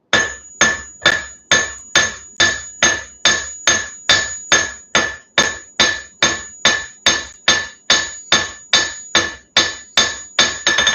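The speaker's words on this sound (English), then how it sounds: "grab my cross peen and start stretching them edges right out" A cross peen hammer strikes hot metal on an anvil in a steady run of about twenty-two sharp, ringing blows, close and loud, each with a bright metallic ring, while the edges of the stock are stretched out.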